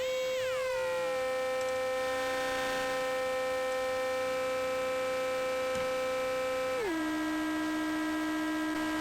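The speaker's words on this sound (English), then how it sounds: "now we can listen to both of the oscillators." Two steady electronic tones from a Klavis Twin Waves MK2 dual oscillator drone together in a buzzy, harmonically rich hum, with the pitch sliding down early on and dropping again near the end.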